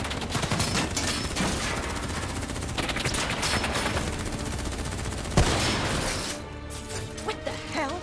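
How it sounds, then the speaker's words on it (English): Gunfire in Call of Duty Black Ops 3, loud sustained automatic bursts in a fierce firefight with one sharp crack near the end before it thins out. "Who's shooting?"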